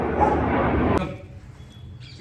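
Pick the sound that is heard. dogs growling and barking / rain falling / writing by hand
dogs growling and barking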